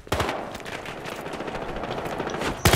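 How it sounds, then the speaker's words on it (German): A machine gun fires in the Battlefield Hardline video game, a loud, close, rapid burst of shots that rattles on for more than two seconds and ends in a sharper blast. "Oh, dieses blöde Maschinengewehr"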